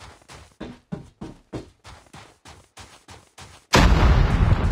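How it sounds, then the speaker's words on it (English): A series of about ten sharp, evenly spaced gunshots in Call of Duty Mobile, followed by a loud, sustained roaring grenade explosion at the end, no voices. "Grenade out!"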